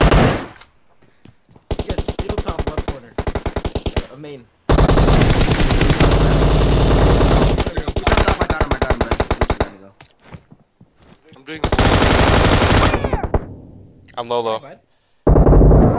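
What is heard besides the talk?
gunfire in a video game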